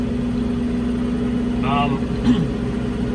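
A John Deere 5100E tractor engine runs at a steady idle, a constant low hum close by throughout, with a brief higher whine partway through.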